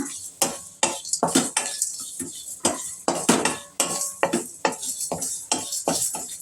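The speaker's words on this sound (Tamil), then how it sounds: "வாசனை வர வரைக்கும் வறுத்துடுங்கம்மா" Whole spices dry-roast in a pan for kuruma masala powder while a spoon stirs and scrapes, producing a steady run of close, rhythmic metallic clinks and rasps.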